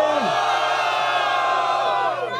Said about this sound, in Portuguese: Quem acha que deu Kael, faz barulho